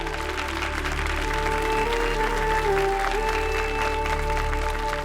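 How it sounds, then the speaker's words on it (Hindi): Loud, sustained applause from a crowd after performances at a TV contest, steady clapping throughout with a low hum and tonal music underneath. "सारी बहुओं के शानदार परफॉर्मेंस के लिए जोरदार तालियां हो जाए"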